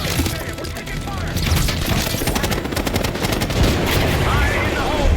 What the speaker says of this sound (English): Damn, we're taking fire!